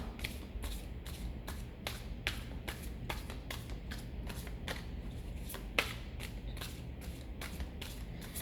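A deck of tarot cards is shuffled repeatedly in a quick series of soft riffling flutters and taps, close and quiet, with no speech.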